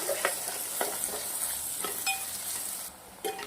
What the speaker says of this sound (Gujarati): આ બધાને સરસ મજાનું ઘીના અંદર સાંતળી લેવાનું છે.